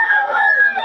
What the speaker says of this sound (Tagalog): daming manok dito ngayon, mga idol